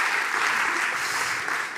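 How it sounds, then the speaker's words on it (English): Audience applause at a graphic design event, steady dense clapping from a crowd, fairly close and sustained throughout without any talk over it. "Give him a warm applause."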